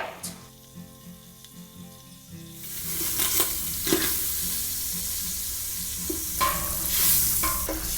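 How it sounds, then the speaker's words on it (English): Two tablespoons of butter melting in a pan on low heat start almost silent, then break into a soft, steady sizzle about a third of the way in, with close stirring and scraping sounds over it. "I'm melting 2 tablespoons of butter."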